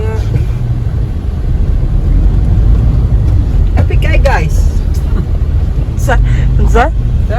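Cars in heavy, slow-moving road traffic, with a steady low rumble of engines and a few brief higher-pitched passing sounds over it, close by and loud while people talk throughout.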